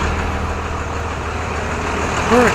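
A 2000 Blue Bird TC2000 school bus with a Cummins ISB 5.9-liter turbo diesel, idling with a steady loud low rumble, rising briefly near the end.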